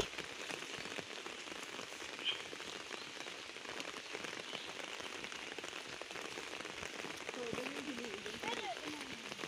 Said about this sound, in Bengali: দেখতে পাচ্ছেন খুবই মুষলধারে বৃষ্টি হচ্ছে।